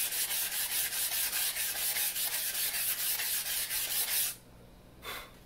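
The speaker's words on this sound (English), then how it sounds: "we're going to take the sandpaper and we're just going to start rubbing on the blade." Sandpaper rubs steadily along the steel blade of an Olympic sabre, a close rhythmic rasping of repeated strokes that stops near the end, followed by one brief final scrape.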